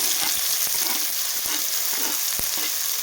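Onion frying with cumin, mustard seeds and spices for chana masala, a loud, steady close sizzle with scattered pops and crackles throughout, no voices.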